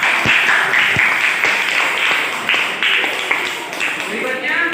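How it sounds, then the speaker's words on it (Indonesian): Classroom applause for a student, a steady wash of many hands clapping with a few sharper individual claps, mixed with chatter and voices throughout. "Aplaus untuk Siti."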